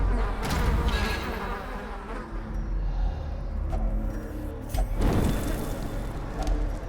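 Hive curio in the Darkest Dungeon video game giving off a dense, steady insect buzzing that swells and holds throughout, loud and close, with no voices over it.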